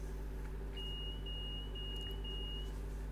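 Door warning beeps of a London Underground tube train in a train simulator game, a single sustained electronic tone broken into short pulses over a constant low engine hum, no talking.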